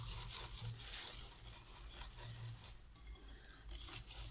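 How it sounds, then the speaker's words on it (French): A spoon or whisk stirs thick coconut yogurt cake batter with flour, sugar and baking powder mixed in, making a continuous soft, rasping scrape in rounded strokes, quiet and close, with no talking. "je continue à remuer"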